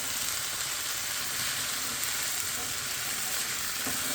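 Ackee frying in oil as it is gently folded in, giving a steady, close sizzle with soft bright crackle running evenly throughout and a faint stir near the end.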